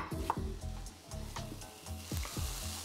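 Onions sizzling and frying in butter in a pan while being caramelized, a soft steady crackle punctuated by repeated scraping and stirring strokes, fairly quiet and close.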